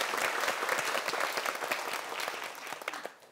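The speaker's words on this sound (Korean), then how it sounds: "박수 한번 주세요." An audience in a Korean lecture hall claps together in a brief burst of applause that is steady at first and then tapers off toward the end.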